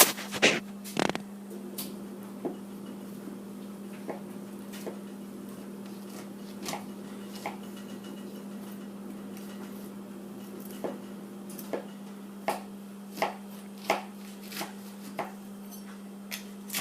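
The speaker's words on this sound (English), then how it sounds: "So, I'm going to cut it." Knife cutting a freshly baked banana loaf, soft scattered crunchy cuts and taps, some in a quick regular run, over a steady low electrical hum with no talk.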